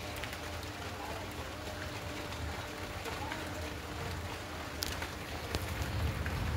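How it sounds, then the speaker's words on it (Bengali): Light drizzle falling under a cloudy evening sky, a steady soft hiss of rain on surfaces running throughout, fairly faint and even, with a few sharper drops near the end. "আর গুড়ি গুড়ি বৃষ্টি অলরেডি পড়ছে।"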